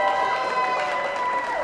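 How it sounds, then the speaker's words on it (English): Warm applause and crowd cheering at a 100th birthday party in Lancaster, with a steady dense wash of clapping and voices calling out throughout. "A round of applause and a shower of balloons for Charlie Bach"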